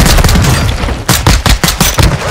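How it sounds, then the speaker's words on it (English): Rapid pistol gunfire from the video game Warzone, loud and close, with a dense burst of shots followed by several distinct sharp reports in quick succession and no talk. "Dude, these pistols rip."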